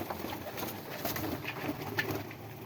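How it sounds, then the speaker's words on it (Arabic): Domestic pigeons gathered to eat grain, cooing and fluttering softly at close range with faint pecking and shuffling, a steady low murmur of birds throughout. "الحمام لما بيلاقيها بتلم عليها وبياكلها، بيحبها جدا"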